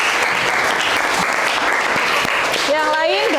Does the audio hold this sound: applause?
yes